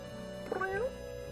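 A domestic cat gives a single short, rising meow, close and fairly soft against a quiet room.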